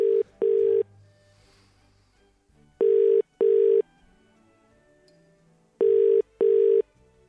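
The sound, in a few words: telephone dialing and ringing, calling Santa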